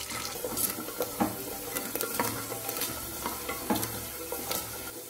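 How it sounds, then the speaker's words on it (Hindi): Curry leaves and peanuts fry in hot oil with a busy crackling sizzle, broken by repeated scraping stirs of a spoon in an uneven rhythm, fairly close and with no talking. "कड़ी पत्ता, मूंगफली के दाने, इसको थोड़ा सा फ्राई कर ले तेल में।"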